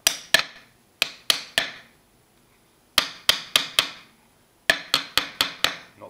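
Sharp metallic taps from a small hammer fit a freshly cleaned chrome ring onto a KitchenAid stand mixer, coming in quick bursts of two to five knocks separated by pauses, close and loud with no speech.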